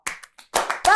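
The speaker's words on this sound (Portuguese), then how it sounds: "Palmas! palmas!" Several quick, uneven hand claps, some sparse and then louder bursts near the end, in a preteen Bible school lesson setting.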